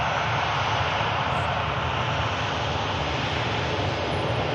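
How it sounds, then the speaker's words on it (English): A TUI Boeing Dreamliner passes near Manchester Airport on approach, its engines giving a steady, loud broadband roar that holds throughout without a break. "We have a TUI Dreamliner, India Charlie, Manchester-based aircraft."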